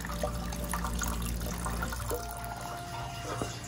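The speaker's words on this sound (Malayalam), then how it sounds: "ഇനി നമുക്ക് അട വെന്തത് തണുത്ത വെള്ളം ഒഴിച്ച് ഊറ്റി നമുക്ക് എടുക്കാം" Cold water pours over cooked rice ada for paalada pradaman as it is drained, making a quiet, steady trickling and splashing with a brief clink near the end.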